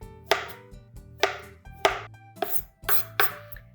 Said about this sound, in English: Instead of cutting in half circles, I'll just quarter the circles.